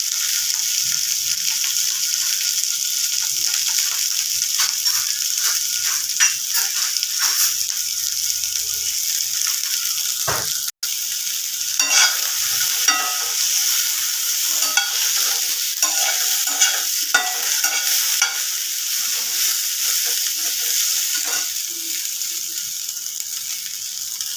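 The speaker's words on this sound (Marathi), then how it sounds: "भेंडीला आपल्याला तेलावरती चांगलं भाजून घ्यायचं" Sliced okra fries in oil in a pan for sukha bhendi masala, giving a steady bright sizzle throughout with frequent scraping stir strokes and one sharp knock near the middle, with no talking.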